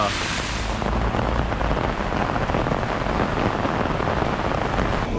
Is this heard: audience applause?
no